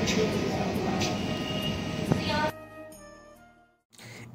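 Sealdah–Ranaghat AC local train at Naihati station, a loud broad rumble of the train close by that drops away abruptly, leaving quieter station noise and a brief return of sound.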